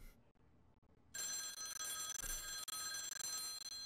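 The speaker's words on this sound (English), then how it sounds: "Phone call?" A telephone rings in The X-Files video game. After a second of near silence, a loud, bright electronic ring starts suddenly and holds steady, with brief breaks, until the clip ends. No one speaks.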